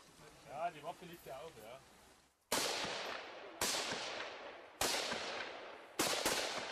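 A voice speaks briefly, then four loud rifle shots ring out at steady intervals on a German army firing range during basic training, each sharp crack followed by a lingering echo.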